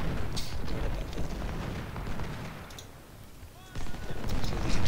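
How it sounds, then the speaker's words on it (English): Cannons fire canister shot at close range during a Bull Run battle in a video game, with booming rumbling blasts and crackling gunfire layered across the scene, loud throughout with a fresh surge near the end. "Yeah, canister shots now."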